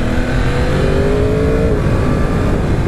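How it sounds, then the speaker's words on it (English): Engine of a 2017 Yamaha R1 motorcycle, a loud, close, smooth mid-pitched drone with a tone that rises steadily as it accelerates, heard alone for about three seconds. "What an amazingly smooth engine."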